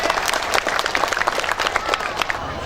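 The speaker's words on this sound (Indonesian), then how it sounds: "Tepuk tangan dulu untuk Rales." A crowd at a live anniversary concert for a music fan club in Prabumulih gives dense, loud applause, with sharp claps crowding together into a continuous roar that stays steady throughout, with no talk over it.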